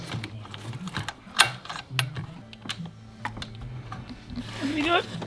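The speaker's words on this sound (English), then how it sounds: "Little 10mm ratchet spanner. And this works a treat. Get on the bolt there" Small 10mm ratchet spanner turning a bolt near the gearbox of a 2008 Land Rover Freelander 2 during a thermostat replacement, rapid close clicking pawl sounds mixed with someone talking.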